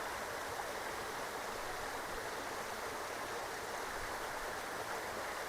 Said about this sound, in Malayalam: വെള്ളത്തിൻ്റെ കളകള സൗണ്ടുകളും